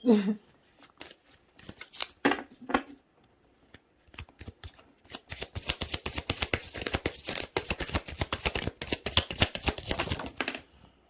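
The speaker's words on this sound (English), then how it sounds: "Oops, shuffling it the wrong way." Close, crisp riffle of tarot cards being shuffled in a rapid, fluttering run after a few scattered taps and a brief voice.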